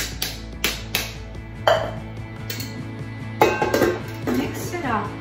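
Hazelnuts and sugar being mixed in a bowl for gluten-free cookies, with repeated clinks and scrapes of a utensil against the dish, brief and close, alongside some talk.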